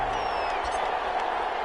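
Steady roar of a football stadium crowd applauding and cheering the defense, dense and continuous throughout with no breaks, with a commentator's voice mixed in.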